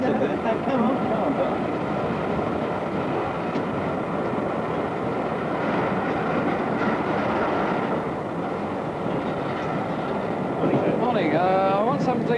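Train departing from platform 10 at a station, a steady broad rumble running throughout with rail noise, loud and close, with a brief rising whine near the end.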